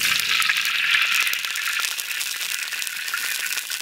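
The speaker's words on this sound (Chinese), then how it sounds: "下入这个公鸡煎" Rooster chicken pieces dropped into a wok of hot oil for pan-frying, giving a loud, dense sizzle and crackle that holds steady close up with no talking.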